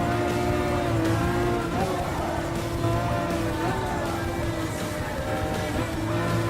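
A Lamborghini Veneno hypercar in Gran Turismo Sport, its engine holding a steady high-pitched howl with slight rises and dips in pitch, running continuously and fairly loud, with faint talking mixed in.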